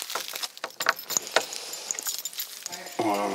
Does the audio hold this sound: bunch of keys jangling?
yes